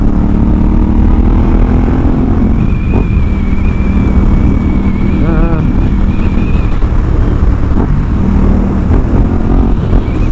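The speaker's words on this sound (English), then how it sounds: "this bike has got the full Terminioni racing system on it" A Ducati Hypermotard 939 SP with a full Termignoni racing exhaust rumbles loudly and continuously through Johannesburg city riding, a steady close engine drone mixed with wind rush.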